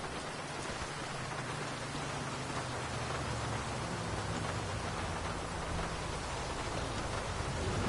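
Heavy rain in a PS5 drift racing game, a dense continuous wash of downpour noise filling the scene at steady loudness, with no talk over it.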